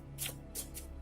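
Three quick papery bursts of a deck of index cards being shuffled by hand, close and fairly soft, with no talking.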